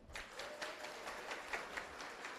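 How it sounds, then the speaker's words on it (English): Adults in an audience at a restorative practices certification ceremony giving a round of applause, a faint, distant patter of scattered clapping sustained for a couple of seconds. "can I ask you now to give a round of applause?"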